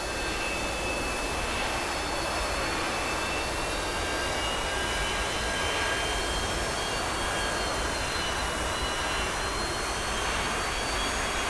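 A-4E jet engine in a flight simulator game during a carrier cold start, a steady loud turbine roar with high whining tones that slowly rise in pitch as RPM increases, no voices.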